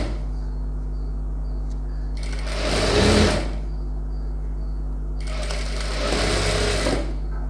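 A sewing machine runs stitching the lining of a designer blouse, two short bursts of rapid needle chatter with a quiet mains hum between them and no talk.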